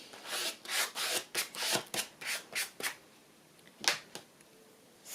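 Paper card rubbed smooth onto a journal page, a series of short dry brushing strokes in quick rhythm, then a pause and a couple more rubs, close and soft.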